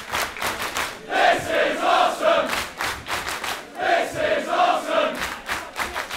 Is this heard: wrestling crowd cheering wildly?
yes